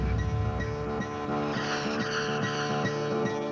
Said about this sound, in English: The thrill of a new 240-horsepower engine.